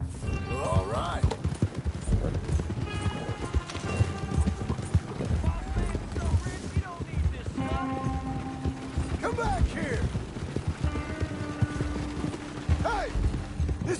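Horse hooves clip-clop steadily in Red Dead Redemption 2 on PS4, a close, even rhythm mixed with creaking wagon mechanisms and a brief whinny, with voices speaking over it.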